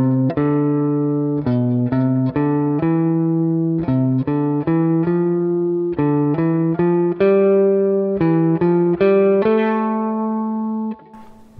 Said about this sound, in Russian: Вы от каждой ступени играете 4 ноты вверх по гамме.